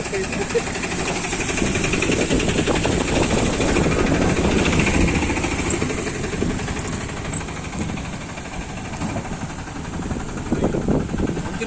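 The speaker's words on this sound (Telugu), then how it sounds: "ఈ విధంగా ఆటోలు మనుషులు బైకులు కూడా తిరుగుతూ ఉన్నాయి" Auto rickshaws and motorbikes pass along a damaged, waterlogged road, their engines rumbling loud and close in a continuous drone with rattling vibration while someone speaks over the traffic.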